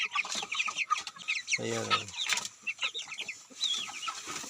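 Chickens cluck and chatter on a rural yard with no neighbors nearby, steady close clucking throughout with a brief low grunting call in the middle, while a person speaks a short word.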